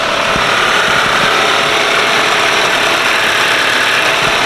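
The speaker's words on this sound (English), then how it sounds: "Listen to that idle." An Audi car with about 180,000 miles idles close by, a loud, steady engine hum with a faint mechanical ticking running through it and no talk over it.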